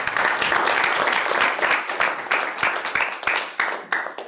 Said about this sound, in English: We get a round of applause for that.